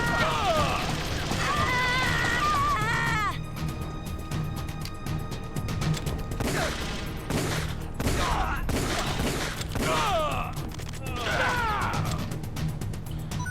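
Meryl firing her gun in Metal Gear Solid: The Twin Snakes, a series of sharp, loud shots and impacts over game music, with voices talking between bursts.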